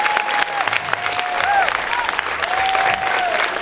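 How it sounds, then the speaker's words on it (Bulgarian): Steady applause from a large crowd at a closing ceremony fills the whole stretch, dense and continuous, with faint whistles and voices mixed into the clapping. "Аплодисменти за тях."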